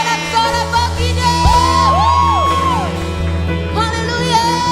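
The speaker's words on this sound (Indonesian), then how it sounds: "Berikan sorak-sorak bagi dia." A church congregation at a GBI prayer house service erupts in loud cheering, whoops and shouts, many voices overlapping in sustained jubilant yelling with rising and falling cries throughout.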